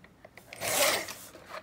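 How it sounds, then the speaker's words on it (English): Paper trimmer blade slicing a quarter-inch strip off a sheet of paper for a shabby chic junk journal cover, heard as one close, steady raspy swish that swells and fades over about a second, with no talk. "So I'm getting my paper trimmer, and I'm just gonna trim off 1/4 inch."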